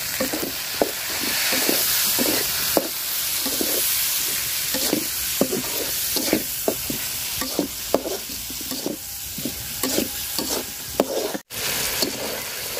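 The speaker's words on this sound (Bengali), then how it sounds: "টমেটোটা সুন্দর করে ভাজা নিচ্ছি তেলের সাথে" Tomatoes frying in oil in a home kitchen pan, a constant loud sizzle broken by rhythmic scraping strokes of a spoon stirring, with a short gap near the end.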